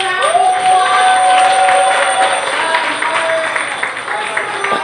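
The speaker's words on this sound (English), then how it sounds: "So we just want to give them a round of applause." Audience applause at an award ceremony honoring a runner-up in a community commuting challenge, loud, steady clapping from a crowd with some cheering, continuous for several seconds.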